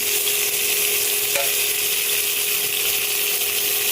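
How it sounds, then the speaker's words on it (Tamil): Curry leaves, green chili and grated ginger sizzle loudly and evenly in hot oil, a dense unbroken frying hiss from start to finish. "கருவேப்பிலை பச்சை மிளகா இஞ்சி துருவி போட்டுருக்கிறேன்"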